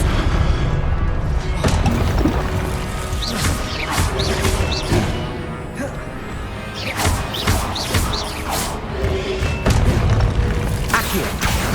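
Repeated Confringo blasting-spell explosions in the Hogwarts Legacy video game, a dense run of booming crashes and sharp impacts over a constant rumbling game soundtrack, with brief whooshes between blasts.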